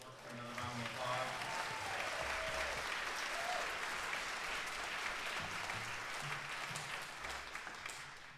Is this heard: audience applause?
yes